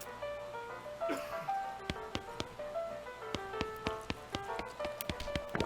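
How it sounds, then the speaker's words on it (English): A plinking mechanical music machine melody in the video game West of Loathing, with quick percussive taps and ringing tones, busy and rhythmic, moderately quiet. "the machine decided to start really operating. The music improves immediately"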